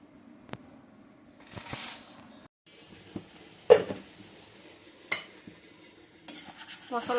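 Masala fries in oil in a pan while a spoon stirs it, with scraping strokes and clinks at irregular moments over a low steady sizzle, close by and without talk.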